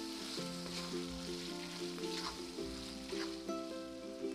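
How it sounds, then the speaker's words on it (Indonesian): Grilling sauce with palm sugar, ground pepper and mushroom stock sizzles and is stirred in a pan, a soft continuous frying hiss with faint stirring strokes and a steady background hum, quiet and without talking. "Aduk lagi supaya bumbu perasannya larut dengan baik."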